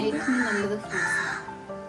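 A crow caws a few times nearby, harsh and short, with a voice audible alongside.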